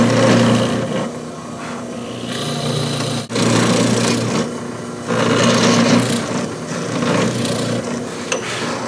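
Steady high-pitched whine of a drill cutting into the slotted side of a wooden guitar headstock, running continuously with a couple of brief pauses, close and loud.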